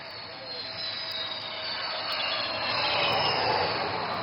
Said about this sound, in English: this twin-engine fighter demands nothing but absolute precision while landing on this highway.